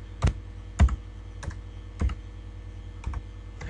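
Keys are struck on a computer keyboard while a duration is entered in MS Project, about six distinct, sharp taps spaced unevenly over a few seconds against a quiet background.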